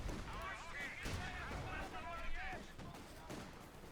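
A Flak Panther's anti-aircraft cannon fires in Company of Heroes 2 during a multiplayer match. Repeated distant popping shots and battle noise sit under continuous commentary.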